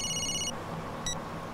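A telephone rings in a short electronic burst, then a brief second trill after a pause, heard fairly close against a quiet room background.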